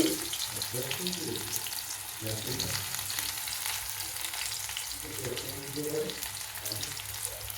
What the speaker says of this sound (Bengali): প্রথমে আমি ক্যাপসিকামগুলো ভেজে তুলে নিয়ে পেঁয়াজগুলো দিয়ে দিই তেলের মধ্যে।